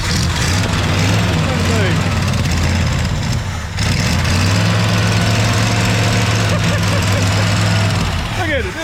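A 1965 Ford Galaxie 500 engine with no choke hooked up idles roughly after long disuse, a loud uneven rumble that briefly dips near the middle, with voices talking over it.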